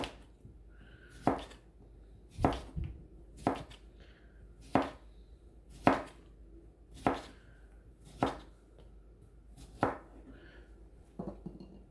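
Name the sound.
knife chopping cucumber for Korean salad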